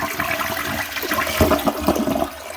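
An early-2010s Aquasource dual flush toilet flushes with a steady rush of water and splashing swirling into the bowl, close up and alone with no voices.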